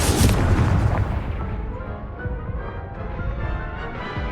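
Fiery spell blast in Hogwarts Legacy, a loud booming burst that rolls into a rumbling, crackling roar and slowly settles, with no talking.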